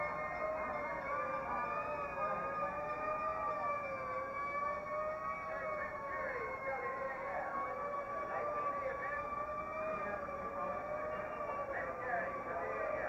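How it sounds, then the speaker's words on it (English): A miniature fire engine siren wails continuously with wavering, sliding pitch at a 1960 Chicago night rally for John F. Kennedy, moderately loud and sustained throughout, with a crowd and announcer voices beneath. "We have a miniature fire engine coming along."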